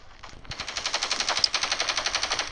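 Automatic gunfire in the mobile shooter game Standoff 2, a rapid, evenly spaced burst of sharp shots that runs nearly the whole time, loud and up close, with no speech.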